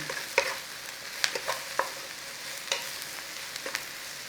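Mushrooms seasoned with salt and pepper cook in a pan, giving a soft background sizzle broken by a few scattered clinks and scrapes of a utensil stirring, with no voices.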